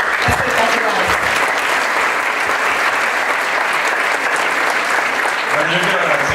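A theatre audience applauds a company's debut performance with sustained, loud clapping from many people, steady and dense throughout, with voices and a few cheers mixed in.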